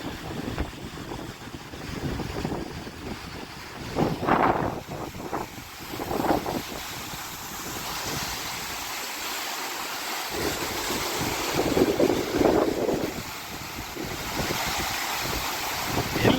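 Wind gusts across an open dam, a steady rushing roar with microphone buffeting and louder swells, continuous throughout with no talking.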